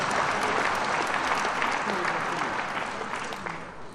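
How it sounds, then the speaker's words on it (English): Audience applause for two veterans at the funeral of PAC stalwart Philip Ata Kgosana, a dense, steady wash of many hands clapping that fades slightly toward the end, with a faint voice underneath. "Let's give them a big round of applause."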